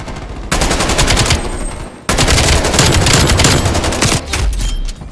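Rapid assault rifle fire from Black Ops Cold War, loud and close, in two sustained bursts with a brief pause between them, no talking.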